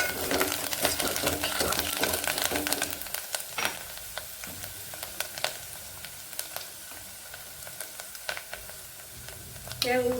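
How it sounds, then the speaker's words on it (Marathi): Spices and homemade garam masala with coriander sizzle and crackle in hot oil for a Marathwada-style urad dal dish, a lively close frying hiss broken by sharp stirring clicks and scrapes. "छान तेलामध्ये परतून घ्यायचे सगळे मसाले वगैरे"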